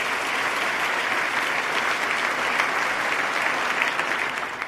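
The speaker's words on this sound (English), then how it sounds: "Let's give Abby a round of applause." Audience at a 2014 state of the state address giving a round of applause for a teacher, with a sustained wash of many hands clapping, steady and full throughout, tapering slightly at the very end.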